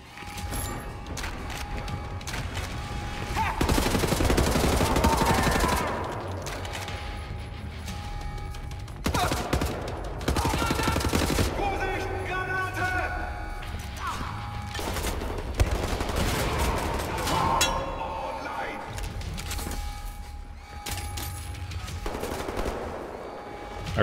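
Gunfire from the video game Wolfenstein: The New Order: rapid automatic bursts and repeated shots in several loud volleys with short gaps, mixed with mechanical clatter.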